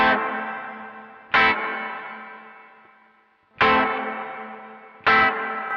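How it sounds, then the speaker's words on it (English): Guitar chords through a Caline CP80 Ragnarok reverb with pre-delay set halfway: four separate strummed hits, each followed by a slowly decaying reverb tail, close and clear with no voices. "If I round the pre-delay up halfway, it gives a little bit of a pause before it brings that reverb tail in."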